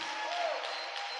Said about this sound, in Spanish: Dele ese aplauso fuerte al Rey